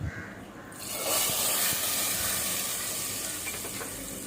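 Hot tempering with asafoetida hits tomato kuzhambu and bursts into a loud, steady sizzle after a brief quiet start, hissing on strongly and easing only slightly toward the end.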